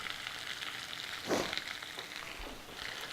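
Peppers sizzle in a pan with garlic as they are added ahead of a mushroom ragout, a soft steady hiss with a brief louder burst of crackle midway, quiet and close.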